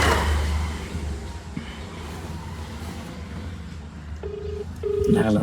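Over a low background hum, a few short electronic tones beep in quick succession near the end, like a phone line ringing or dialing.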